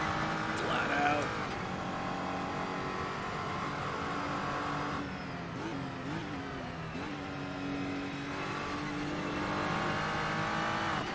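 Glickenhaus SCG 003 race car in Assetto Corsa on the Nürburgring for a 24-hour hotlap, its engine droning steadily at full throttle with rising and falling harmonics through shifts, loud and continuous, with someone talking over it.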